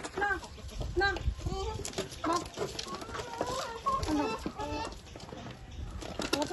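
A hen clucks repeatedly in short, choppy calls, fairly close, amid background noise and some human voices.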